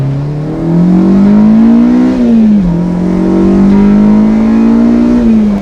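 A Honda S2000 engine revving hard into VTEC on a road drive, its loud, steady climbing whine rising in pitch, dipping briefly at a shift, then rising again with no one talking.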